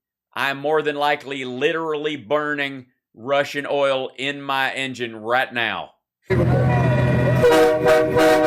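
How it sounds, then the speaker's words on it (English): Someone talks for several seconds, then a loud, sustained multi-tone train horn blares close by until the end. "That's a train horn."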